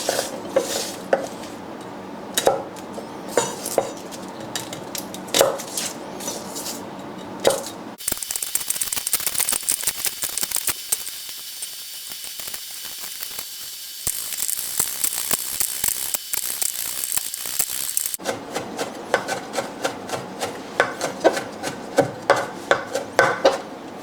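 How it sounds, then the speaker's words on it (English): Knife slicing through a whole head of garlic on a cutting board, with bursts of quick, close tapping and scraping cuts and a brief stretch of steadier rasping in the middle. "Let's start by slicing our garlic."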